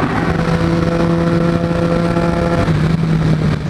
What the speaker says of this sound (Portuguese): Já começamos no túnel cortando o giro pra alegria dos mano.